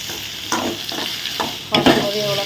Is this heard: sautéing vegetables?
yes